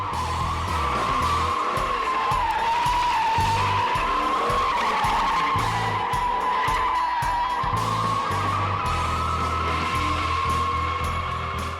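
A Chevrolet Trailblazer SS built for drifting slides with loud, sustained tire squeal over a roaring engine, the screech wavering in pitch and close throughout.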